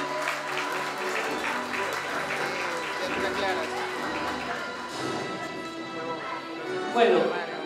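Guests at a school graduation party clap in a full, sustained round of applause, fairly loud and even, with some voices and a few thumps mixed into the crowd noise.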